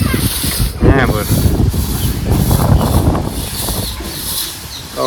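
Cool wind blowing through trees in a village near Botad, a steady rushing roar that fills the whole stretch, with people talking over it.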